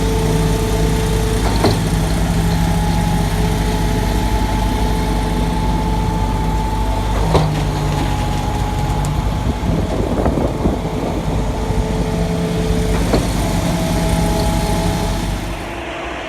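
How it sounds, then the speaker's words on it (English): Diesel engine of a cement truck runs steadily at a pumper job on a building site, a loud continuous idle with a droning hum and occasional louder surges, fading slightly at the very end. "Another day, another job with the cement truck."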